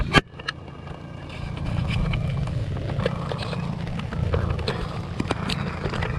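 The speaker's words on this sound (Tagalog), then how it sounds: "nakita natin na super so okay siya ang andar ng makina" A diesel engine with a leaking fuel line runs steadily with a deep rumble, joined by occasional sharp clanks and knocks, after a brief loud bang at the start.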